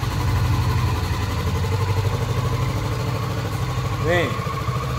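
A Kawasaki Vulcan 650 motorcycle engine idles nearby with a steady, throbbing putter, a brief high chirp cutting in near the end.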